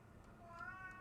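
A second cat lets out a single faint, drawn-out meow over a quiet room background.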